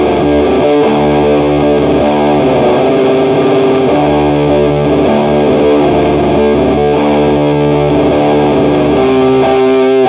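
A heavy, sustained electric guitar riff in drop D, played through a green Matamp GT120 MV amp driven by a one-knob silicon fuzz, thick and saturated, loud and continuous, with no voices.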